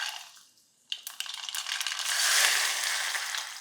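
Mustard seeds hit hot oil for tempering in a home Maharashtrian kitchen, first with a sudden crackle and then a steady, building sizzle and spatter that stays close and continuous, with no voices.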